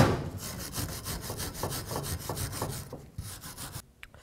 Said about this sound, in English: Take a wire brush. Just clean off this area.